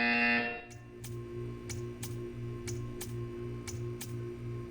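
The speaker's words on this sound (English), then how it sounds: "You will hear a buzzer. When you hear the buzzer, stare at the art." A low electronic buzzer in the video game Portal 2 pulses steadily in short repeated bursts, accompanied by regular sharp ticks, after a brief higher tone at the start.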